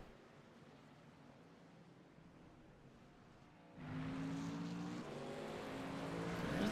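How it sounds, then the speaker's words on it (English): Race truck engines in the iRacing sim at Sonoma climb a hill, a steady engine drone that jumps louder midway as more trucks join in, with layered tonal whine continuing to the end. "You really just see as all the cars go up the hill."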